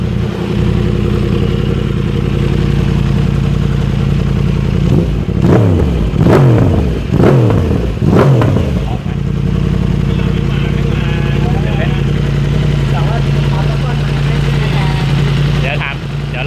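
A Yamaha R1M motorcycle's exhaust blips several times at low rpm, three or four sharp close revs rising and falling over a steady idle, with people talking over it.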